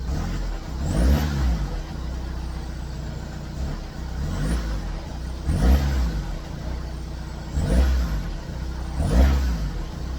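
A Volkswagen TDI Jetta diesel engine idles, then revs four times in evenly spaced swells that rise and fall back, recorded close by.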